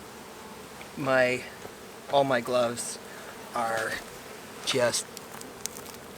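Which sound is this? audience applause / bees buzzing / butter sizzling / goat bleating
bees buzzing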